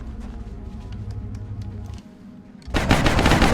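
Gunfire in XCOM: Enemy Within, modded Long War, with a steady low rattle of automatic shots, a brief lull, then a loud burst of harsh crackling fire.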